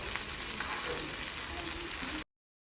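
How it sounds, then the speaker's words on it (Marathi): Halwa fish frying in a pan over a low gas flame, a steady close sizzle and crackle of hot oil that carries on evenly before cutting off abruptly, with no talking. "स्लो गॅसवरती परतून भाजून घ्यायचे छानपैकी."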